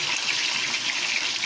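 A quiet, steady trickle of Worcestershire sauce being poured into a crock pot for pot roast, a soft continuous liquid pour with no talk.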